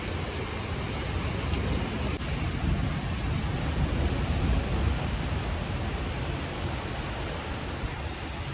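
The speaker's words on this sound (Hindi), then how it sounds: "अब आई तेज वाली बारिश" Heavy rain pours steadily in a constant broadband hiss with a low rumbling wash underneath, unbroken and close for the whole stretch, with no voices.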